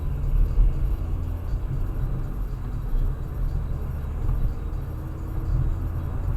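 A car pulls away on a city street, a low steady engine rumble with traffic-like drone that holds for several seconds without fading much, no voices.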